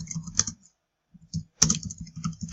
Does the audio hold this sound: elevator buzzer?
no